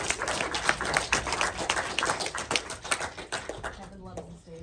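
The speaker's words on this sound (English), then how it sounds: "Can we have a round of applause for our volunteers?" Audience applause for two volunteers called up during a film school lecture on cameras, dense clapping from a lecture hall crowd fading out toward the end, with voices mixed in.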